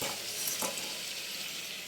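Fish pieces stirred in a sizzling frying pan while making a Bengali fish curry, with a steady close hiss of hot oil and a couple of soft scraping stirs.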